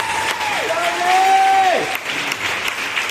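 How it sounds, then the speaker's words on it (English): Audience applause at a school rewards assembly, clapping for a class as students are called up; steady, dense clapping fills the room throughout, with a brief tonal sweep over it midway. "Let's give a big round of applause for Mrs. Laphauer's class."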